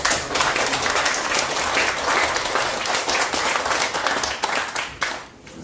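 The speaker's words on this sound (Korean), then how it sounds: "박수 한번 부탁드립니다." Audience applause at a lecture, dense sustained clapping from a crowd in a hall that stays loud for several seconds and then thins out toward the end.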